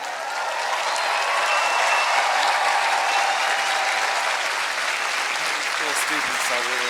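A large outdoor crowd of students at a Harvard commencement ceremony applauds and cheers steadily for Chancellor Merkel, a dense sustained roar of clapping that holds at full loudness before easing slightly near the end.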